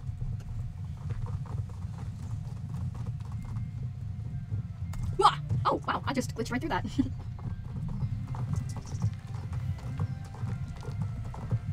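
Horse hooves clip-clopping steadily in the video game Star Stable as the horse is ridden, a soft even rhythm running throughout, with a voice exclaiming briefly partway through.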